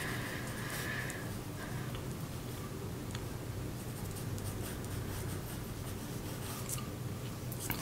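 Pencil drawing hair on paper for a side-view portrait, heard as continuous close scratchy strokes with short flicks and a soft steady rub, no voices over it.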